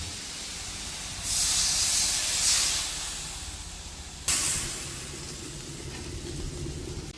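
Water is poured onto frying masala in a hot pan and sets off a loud burst of hissing steam that slowly dies down. A second sharp hiss starts partway through, then settles into a softer simmering sizzle.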